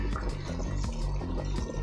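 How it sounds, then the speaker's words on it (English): Water poured into a stock pot over meat and marrow bone scraps, a steady close liquid fill with sloshing and splashing throughout, no voices. "I'm just going to cover everything with water and bring it up to a boil"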